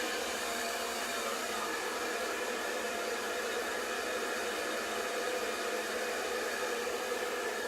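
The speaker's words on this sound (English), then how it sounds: "Blast some cold air on it" A hair dryer blowing cold air on hair, a steady, continuous broadband whoosh that stays loud and unchanging throughout, with no voices.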